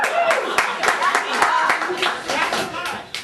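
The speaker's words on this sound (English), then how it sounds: "Deserving of applause." At a stand-up comedy show, a small crowd breaks into applause, the individual claps sharp and fairly close, with a bit of chatter mixed in.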